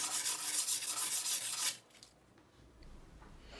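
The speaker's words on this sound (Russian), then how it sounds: "Места срезов зашлифовываем самой мелкой шкуркой." Fine sandpaper rubbed along cut wood edges, a brisk, close scratchy rasp for under two seconds that then stops, leaving only faint room noise.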